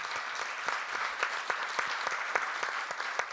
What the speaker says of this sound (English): a huge round of applause for these teams